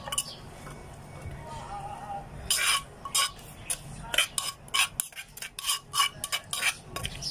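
A spoon scoops food onto a plate in a home kitchen, serving Isan-style pickled bamboo shoot soup, with a run of sharp clinks and scrapes of utensil on dish following a soft stirring start, close and clear with no talk.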